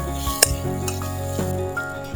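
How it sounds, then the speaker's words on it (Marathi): Coriander and spices roast in a pan with a short burst of sizzling, a few clinks and scrapes from stirring, and background music running underneath. "तर ते पण आपण चांगलं 1-8 मिनिटं रोस्ट करून घेऊया."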